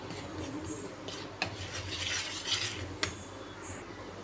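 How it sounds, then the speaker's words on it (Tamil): Chicken pieces being mixed with chili powder, pepper powder and salt in a bowl, giving a steady soft stirring and rubbing texture with a few sharp clinks of utensil against the dish. "இப்போது மிளகாத்தூள் கொஞ்சம், மிளகுத்தூள் கொஞ்சம், தூளுப்பு கொஞ்சம், தேவையான அளவுக்கு நல்லா மிக்ஸ் பண்ணலாம்"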